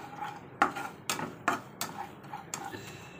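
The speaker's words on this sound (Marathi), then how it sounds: "आता बेसन छान भाजून घेऊया आपण" Spoon or spatula scraping and tapping a pan while gram flour (besan) is roasted and stirred for Shegaon kachori, several distinct clinks spaced irregularly over a soft background, no voices.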